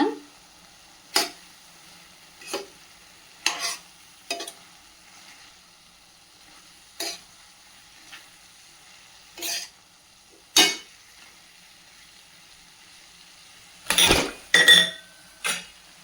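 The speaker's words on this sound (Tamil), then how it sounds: "அப்பப்போ கலந்து கொடுங்க." A spoon stirring mushroom pepper fry with mushrooms and onion in a pan: sparse, soft scrapes and clinks against the metal every second or two over a very faint sizzle, with a busier cluster of scraping near the end.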